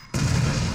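A planted bomb detonates in Resident Evil 7, a sudden loud blast that bursts in after a short silence and holds as a dense, close rumble.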